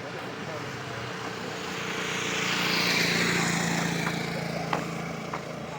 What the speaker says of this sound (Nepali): गाडी गाडी आउँदैछ है।